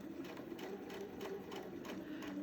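A sewing machine runs steadily, stitching a seam with a quick, regular mechanical whir and needle tapping, fairly quiet and close, with no voices over it.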